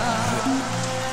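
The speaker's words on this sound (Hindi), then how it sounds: "अगर बारिश ऐसा होता रहे तो पानी ज्यादा ही जमेगा" Heavy rain falls over a village in a Hindi-dubbed film scene, a brief, dense, steady wash of drops at close range with a faint tonal hum beneath, no speech.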